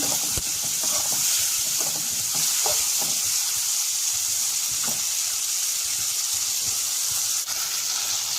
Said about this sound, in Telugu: మన టమాటాలు కొద్దిగా వేగాలి, మెత్తబడాలి. అప్పటి వరకు మనం ఇలా కలుపుతూ ఉన్నాము.